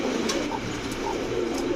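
A male Arabian Coca pigeon, an imported single cock bird, coos repeatedly close by in a low, rolling rhythm, with faint chirps and background noise around it.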